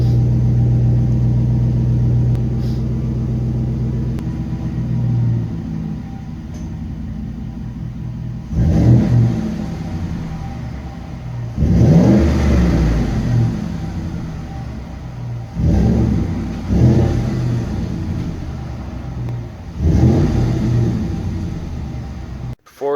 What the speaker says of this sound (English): 5-liter, the Coyote motor, 2011, and that's with the dual outlet thrush muffler